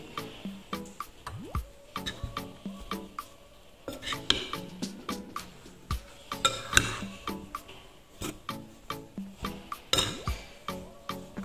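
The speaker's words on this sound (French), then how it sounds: "Et je mélange le tout." A bowl of cornstarch and flour is stirred by hand, with a steady run of sharp clinks and scrapes of a utensil against the bowl in an uneven, quick rhythm, close and clear, no talk over it.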